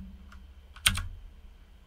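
Keystrokes on a computer keyboard during CAD drafting, a few soft taps followed by a sharp cluster of clicks near the middle and another tap at the end, close and fairly quiet with no talking.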